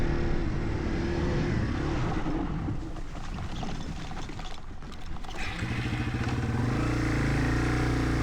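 A Yamaha TW200 motorcycle rides a trail in New Jersey, its single-cylinder engine loud and close throughout, dipping briefly before revving back up with a rough, steady drone.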